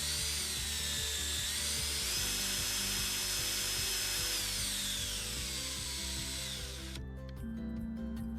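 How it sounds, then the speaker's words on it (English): Power drill running continuously with a high, whining motor tone that shifts in pitch, then cuts off near the end. "It's a power drill."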